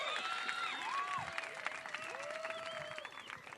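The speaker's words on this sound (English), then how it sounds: "You guys make some noise, give yourselves a round of applause" Beachside audience applauding surfers and fans at a pro surfing contest in Ericeira, Portugal, a sustained scatter of clapping with whistles and cheers rising over it, fairly distant and moderately loud.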